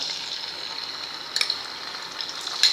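Chilli thecha dropped into hot oil, a steady hissing fry close by with a few small clinks from the pan toward the end, no voices.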